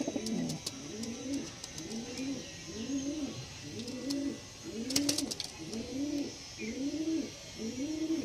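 Pigeons, a Black Diamond variety kept ready for flying, coo in a steady repeating rhythm of about eight soft, throaty calls, close by, with faint chirps and brief clicks above them.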